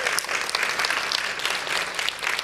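An audience claps steadily at a conference talk, a dense, continuous patter of many hands close by that runs the whole moment without a break.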